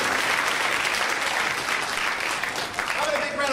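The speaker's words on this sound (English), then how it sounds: "Applause for the whole MJ squad" Loud, sustained applause from a crowd at a college speech and debate night fills the whole stretch, with clapping steady and dense and a few voices mixed in.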